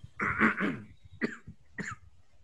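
A short burst of close coughing, one harsh double cough followed by two smaller throaty coughs, with no speech.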